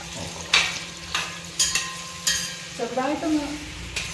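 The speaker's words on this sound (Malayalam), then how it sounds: "അമ്പഴങ്ങ ഇടാൻ പോവാണ് ഇനി ഇതൊന്ന് വഴറ്റിയെടുക്കും" Hog plums being sautéed in a pan for pickle, with a steady close sizzle broken by a few louder scraping stirs, and no talking.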